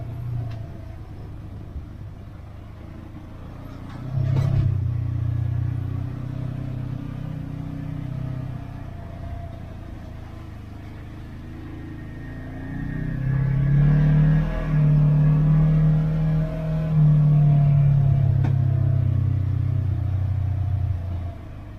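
An off-road vehicle drives a trail near Moab, Utah, its engine a low rumble heard from inside the cab that swells twice as it climbs or accelerates, with knocks and creaks over rough ground.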